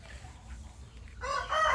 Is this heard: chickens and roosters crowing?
yes